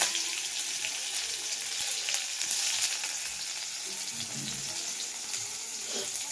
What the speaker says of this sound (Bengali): আমি কড়াইয়ে তেল দিয়ে দিয়েছি। এবার কেটে রাখা পেঁয়াজগুলো দিয়ে দিলাম।